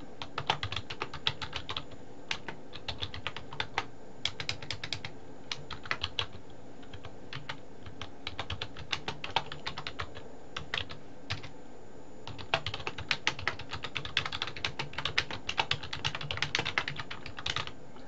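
Close, steady typing on a computer keyboard, rapid clicking keystrokes in uneven bursts with short pauses, alone without talk.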